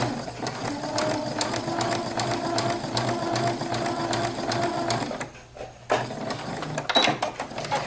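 A sewing machine stitches a straight pin tuck in fabric, running steadily and loudly at close range, pausing briefly near the end before starting up again.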